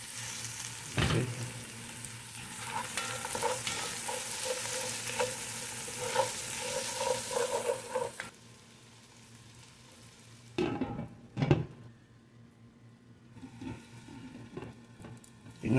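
Onions frying and stirred in a pan for caldereta, a steady loud sizzle with scraping stir strokes, then the frying drops away after a lid goes on, leaving faint clatter.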